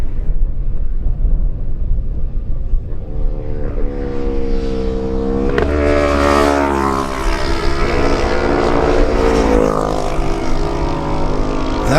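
Two Kawasaki lightweight racing motorcycles at the Manx Grand Prix scream past one after another, their loud, high-revving engines building from a distance and then sweeping by with a falling pitch.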